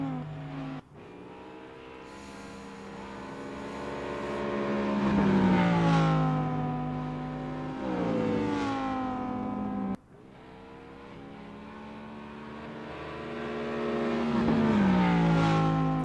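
Race cars at Road Atlanta in an ESL R1 sim-racing round scream through the gears, engine notes rising and dropping with each upshift and braking zone, one car passing loudly, then another, with no talk.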